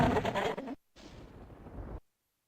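Gunfire and explosions from the video game Punching Barons come as two dense bursts of blasts, each cutting off abruptly into silence.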